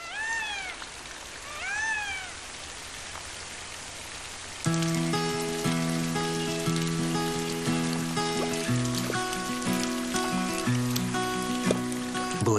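Monsoon rain falls in the Western Ghats, a dense patter on surfaces that starts suddenly partway through, with scattered drips over it, and it comes after a few cat-like cries at the start.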